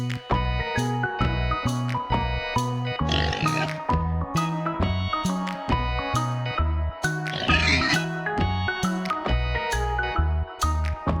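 Pigs oinking in a barnyard, a rapid run of loud, regular grunts close by, broken by a couple of longer squealing calls.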